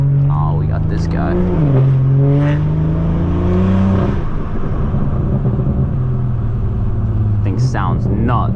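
A Stage 2 BM3-tuned 2018 BMW 440i accelerating hard through the gears, engine pitch climbing then dropping at shifts, loud and close from inside the cabin, with voices speaking over it.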